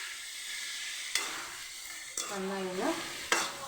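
Tomatoes sautéing in a pan for a jackfruit chilli, giving a moderate, steady sizzle with occasional stirring scrapes while a person speaks briefly over it.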